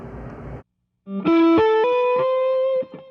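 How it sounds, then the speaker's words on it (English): An electric guitar plays a short melodic phrase through an Xotic EWS Fuzzy Drive pedal with smooth, saturated fuzz distortion and long sustained notes, loud and alone, after a brief burst of noise. "if you were doing like a long sustained ballad and you want that nice smooth distortion"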